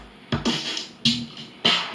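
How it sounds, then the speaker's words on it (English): Drum loop from a music production sound library: punchy kick hits and bright crashing snares or cymbals in a steady repeating pattern, loud and close, with no talking. "So right here is a drum loop."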